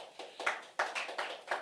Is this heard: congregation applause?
yes